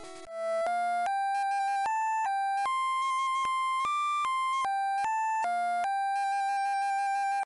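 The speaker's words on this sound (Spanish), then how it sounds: "¡Que suene la Pokéflauta! ¡Música, maestro!" The Poké Flute melody from the video game Pokémon Red, a clean electronic chiptune tune of sustained stepped notes with a bright, pure tone, playing loud and alone with no talking.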